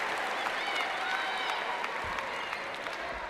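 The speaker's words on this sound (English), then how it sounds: "The crowd applauding that effort." A college basketball crowd at a Duke versus Notre Dame game applauds a defensive stop, a steady moderate wash of clapping and cheering in a large arena, with a commentator's voice faintly present underneath.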